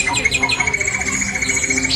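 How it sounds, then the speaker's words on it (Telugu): A peacock calls at a busy exhibition with caged birds and animals nearby, its bright cries rising among chirping birds over a steady crowd murmur. "నెమలి"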